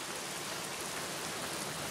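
Rain falls steadily in the 2003 adventure game The Black Mirror, a dense, even hiss of downpour with no breaks and no other sounds.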